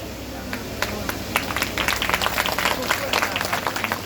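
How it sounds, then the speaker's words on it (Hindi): An audience at a Shrimad Bhagavat Katha religious discourse claps along in rhythm, quick sharp claps building over a steady crowd bed with some voices in the background. "अब तुम ताली बजवा रही हो तो बज रही है"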